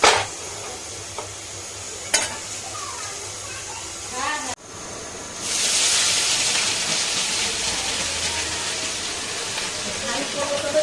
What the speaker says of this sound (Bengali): এইবারে কড়াইতে দিয়ে দিয়েছি তেল